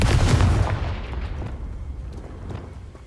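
The Confringo fire spell in Hogwarts Legacy explodes in a heavy, booming blast that hits loud at the start and then rolls off into a fading rumble.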